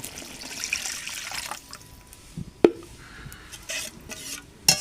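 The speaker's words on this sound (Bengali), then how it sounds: "এখন আমি ঝোলের জন্য পানি দিয়ে দেব" Water poured into a pan of cooked-down spiced masala to make gravy for a round-brinjal curry: a rushing pour up front, then a quieter simmering hiss with a couple of sharp utensil knocks against the pan.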